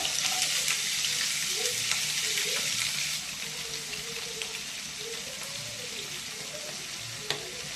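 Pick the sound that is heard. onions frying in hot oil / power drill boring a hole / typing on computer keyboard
onions frying in hot oil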